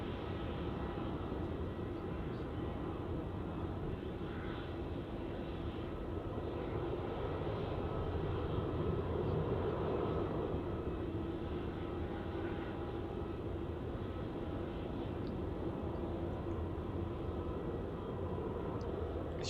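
A Qantas Boeing 737 airliner on the runway at Melbourne Airport, heard as a steady, distant jet engine roar that holds evenly throughout with no voices.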